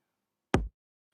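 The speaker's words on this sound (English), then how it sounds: "We're going to go to kicks and we're going to get another kick sound." One short, punchy kick drum hit with a deep thump and a sharp click on top, isolated in silence.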